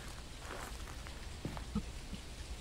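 Steady game rain in Phasmophobia, VR version, at a New Mexico location, a constant hiss of falling drops filling the whole clip, with a couple of soft thumps breaking through.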